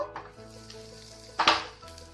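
Raw banana slices fry in a pan, giving a quiet sizzle with a steady low hum beneath and a brief louder scrape of stirring partway through, heard close and alone.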